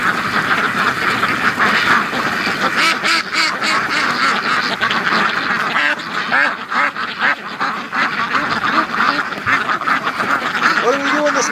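Muscovy ducks quack in a busy, overlapping flock during a snowstorm, with near and constant calls under a person's steady talking.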